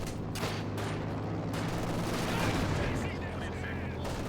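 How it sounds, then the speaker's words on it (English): Rifle grenade explosion amid a dense, continuous wall of gunfire and blasts in a competitive video game match, loud and rumbling with no clear isolated boom. "Nice rifle nade from Pervitin."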